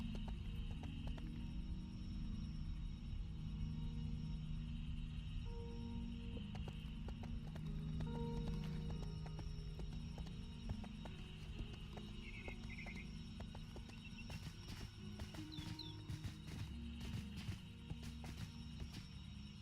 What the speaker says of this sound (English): Yeah, like a horse like this one.